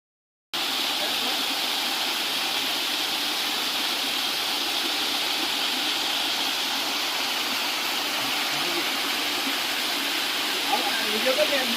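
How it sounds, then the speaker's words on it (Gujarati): A village waterfall at Jhalariya near Pavagadh roars in a constant, broad rush of falling water, close and loud, with a faint voice rising briefly toward the end. "ઝાલરિયા ગામનો ધોધ"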